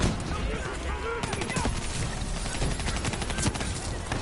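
Dense World War II battlefield gunfire in the video game Black Ops 3, with rapid machine-gun bursts and scattered rifle shots crackling continuously, loud and close throughout.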